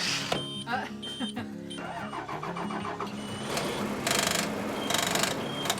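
Old bus cranking repeatedly and struggling to start in cold weather, a loud rhythmic starter churn with engine sputters under steady talk and background noise.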